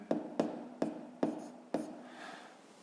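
Pen or marker strokes writing coordinate points by hand, five short sharp taps or scratches at a steady pace, close and fairly quiet, followed by a soft trailing scrape.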